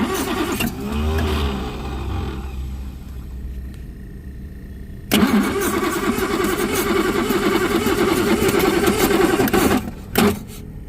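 A 1960 Jaguar S-Type with a 3.8L engine starting up after sitting for 8 years, cranking then catching into a rough, uneven running roar that holds steady close by.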